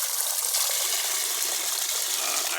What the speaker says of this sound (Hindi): एक बाल्टी लगा रखी है यहाँ पे, बूंद बूंद की तरह पानी टपक रहा है।